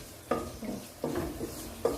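Masala of Kashmiri chilli powder, fennel, black pepper, turmeric and salt fries in a pan, with a few distinct scraping stirs and a soft sizzle underneath, close and fairly quiet.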